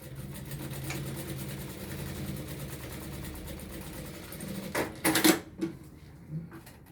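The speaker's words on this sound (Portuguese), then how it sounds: "Vou passar uma costurinha aqui com pé de máquina, retrocesso no começo e no final." A sewing machine runs steadily, stitching fabric with a presser foot and backstitching, giving a continuous mechanical hum followed by a few sharp clacks and handling noises.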